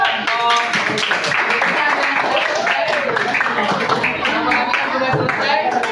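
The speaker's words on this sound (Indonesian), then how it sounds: "tepuk tangan buat kelompok" A room full of people clapping for a group at a school coaching-supervision session, with dense and steady applause mixed with chatter that keeps going throughout.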